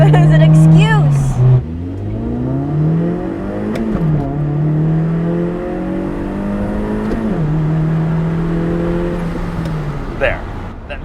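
A car engine revs through a hard acceleration pull, its pitch climbing repeatedly with drops at each gear change, loud and close; voices talk over parts of it.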